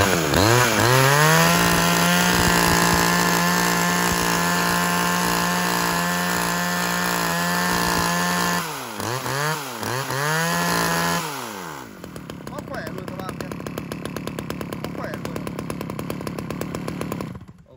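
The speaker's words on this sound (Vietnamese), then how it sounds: "em test nổ con M2 cho bác này" A used Japanese M2 chainsaw engine runs close up and loud, holding a steady high-pitched two-stroke drone, then revving up and down a few times before settling into a rougher, lower idle.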